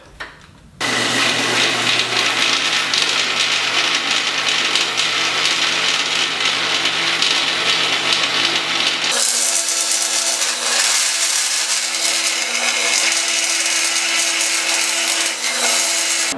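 A saw blade cuts steadily through wood to shape a sign, a loud continuous buzzing drone up close that starts abruptly and shifts pitch partway through as the cut changes, with no talking.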